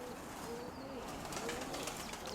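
Pigeons in a breeder's flock of about a hundred birds, including crested and shaggy-footed types, coo softly in low repeated calls over a faint background hiss, fairly distant and quiet, with no voices.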